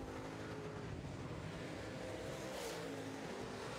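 Late model race cars at an NLRA late model special feature roar into turn three, a steady loud engine drone with a passing car swelling near the end, no voices over it.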